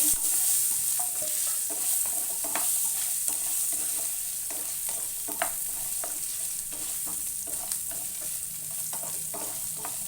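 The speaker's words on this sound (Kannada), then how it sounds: "ನಾನು ತೆಂಗಿನಕಾಯಿ ಹೆಚ್ಕೊಂಡು ಇಟ್ಕೊಂಡಿದ್ನಲ್ಲ ಅದನ್ನು ಈಗ ತುಪ್ಪದಲ್ಲಿ ಸ್ವಲ್ಪ ಹುರ್ಕೊತೀನಿ" Chopped coconut stirred and fried in ghee for a moong dal halwa, a steady close sizzle with repeated scraping stir strokes running throughout, no voices.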